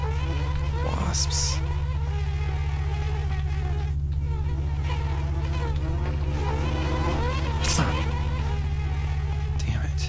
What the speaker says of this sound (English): The trick with wasps is they don't last very long